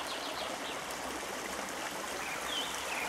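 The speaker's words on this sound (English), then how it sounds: "Strange mountain river near the place where we are" A mountain river in Bulgarian nature flows steadily with a broad, continuous rushing wash, close and even throughout, with a faint bird call or two above it.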